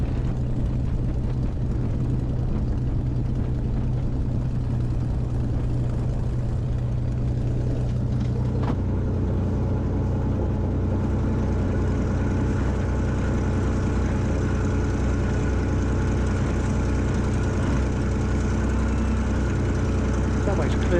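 A Spitfire aircraft's engine holds a steady, loud, throbbing drone while lining up on the runway for departure, with radio talk and voices over the continuous engine noise.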